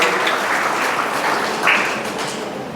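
Steady applause from an audience at a book launch ceremony, a dense wash of clapping hands with one brief swell near the end.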